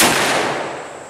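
A single loud report from a German .44 Magnum revolver fired at an outdoor range, a sharp blast followed by a long decaying roar that fades over a second.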